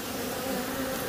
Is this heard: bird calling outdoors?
no